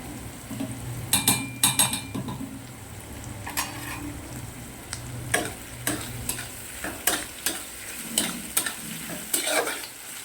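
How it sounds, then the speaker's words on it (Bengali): Onions sizzle in a pan, frying until deep red-brown for a home lentil dish, with a soft constant hiss punctuated by sharp clinks and scrapes of a utensil stirring against the metal. "তো বন্ধুরা, পেঁয়াজটা আমি একটু বেশ লাল লাল করে ভেজে নেব।"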